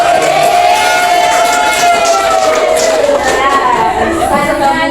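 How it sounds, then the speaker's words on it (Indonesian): A classroom of 11th-grade students cheers and shouts in a loud, sustained group roar, with whoops and raised voices blending into a dense crowd sound for several seconds. "tepuk tangan untuk kelas 11 MIPA 8"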